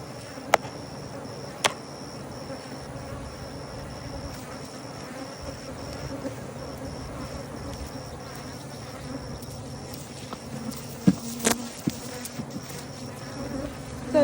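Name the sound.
honey bees buzzing around hives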